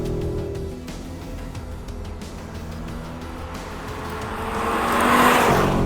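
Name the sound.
Audi RS 3 2.5-litre 5-cylinder engine on track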